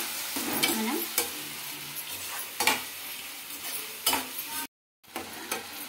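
Chopped tomato pieces frying in a pan for handi chicken, with a steady sizzle throughout and a spoon stirring and scraping at intervals, plus a brief gap of silence near the end.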